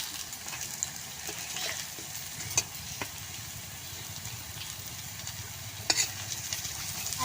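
Taro flower fritters fry in a small amount of oil at a village stove, giving a steady, fairly quiet sizzle with a few sharp pops and clinks near the start and toward the end, and no talking.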